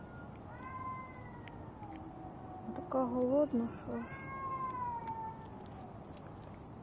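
Cats meow in a string of drawn-out, wavering cries in a building's yard, with someone speaking quietly between them.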